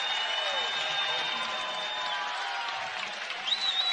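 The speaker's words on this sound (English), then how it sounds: "listen to the Bison crowd" Crowd at a women's college basketball game between North Dakota State and Minnesota keeps up a steady, fairly distant roar of cheering through the final seconds, with a few whistles near the end.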